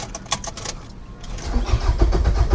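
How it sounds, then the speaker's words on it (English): A 2005 Nissan Altima engine cranking without catching, a steady rhythmic starter churn that grows louder and rougher near the end, close and alone with no speech. "And it's still a crank no start."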